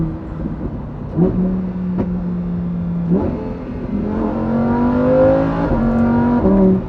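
A Lamborghini Huracan EVO's V10 engine revs and pulls through gears, loud and close, its rising whine broken by several shift steps over about seven seconds, with no voices.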